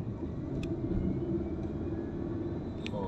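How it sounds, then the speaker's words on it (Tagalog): A Mercedes-Benz engine hums low and steady from inside the moving car, a constant rumble of road and motor noise with faint clicks, moderately quiet and without talk. "Yung tunog ng makina?"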